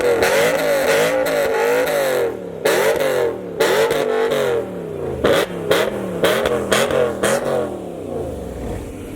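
Loud, close V8 on stock exhaust revs repeatedly in short, sharp blips and longer pulls, the engine roaring up and dropping back between each rev, with no talk over it.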